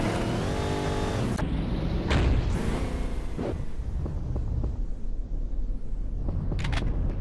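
A limo driving in the video game Payback 2: Rampage: a loud engine drone with a rising tone at the start, then a couple of sharp bursts and a steady revving car engine with scattered clicks.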